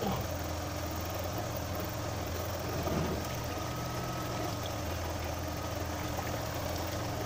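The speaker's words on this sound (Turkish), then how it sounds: "Biraz daha kalsın motor, çalışsın." A car engine idles steadily with a low, even rumble throughout while antifreeze is flushed from the engine block and radiator. No one speaks.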